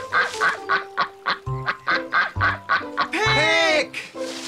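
A cartoon duck in a children's TV show quacks loudly and close in a quick rhythmic run of about a dozen honking calls, then gives a longer warbling cry before a few final quacks.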